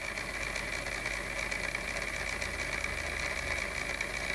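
A pulse motor with magnets spins on a test bench, giving a steady, continuous mechanical hum with a faint rhythmic pulsing throughout, close and even in level with no talking.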